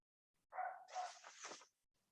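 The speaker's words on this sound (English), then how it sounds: "The dog has a question." A dog lets out a short run of two or three yips and barks in quick succession, close by and with no talk over them.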